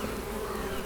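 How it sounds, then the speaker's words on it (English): Dense, steady buzzing of bees, close and loud, a continuous droning hum with no pauses. "we're off looking at bees today."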